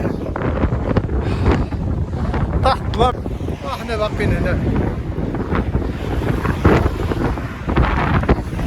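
Steady wind buffeting the microphone during a bicycle ride in Tangier, a constant low roar throughout with a person talking over it.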